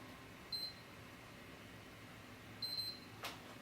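A PS3 console powering up into recovery mode gives two faint, short, high electronic beeps about two seconds apart, followed by a quick click, over a steady low room hum.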